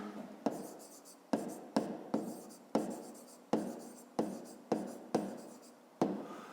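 Pen writing on paper while a box's length is noted in a maths lesson: a series of about nine sharp, close scratchy strokes, each starting with a crisp attack and fading, with no talk over them.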